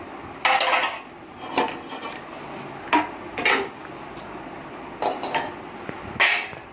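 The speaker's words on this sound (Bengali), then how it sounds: "এবারে হাড়ির ঢাকনা ঢেকে দেওয়া হলো" A lid is set on a cooking pot with biriyani spices and green chilies inside, producing several sharp metallic clanks and clatters at spaced intervals, close by, with quiet gaps between them and no talk.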